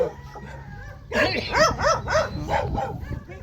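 Several loud, close barks from a German Shepherd come in a quick cluster after a quieter opening, with people talking in the background throughout, at a farm with many chickens.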